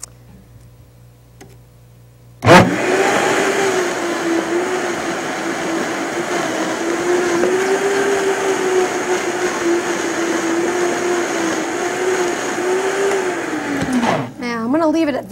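Countertop blender whirring through raw cheesecake filling: a loud motor kicks in abruptly after a quiet start, holds a steady droning roar with a slight wavering pitch for about eleven seconds, then winds down and stops.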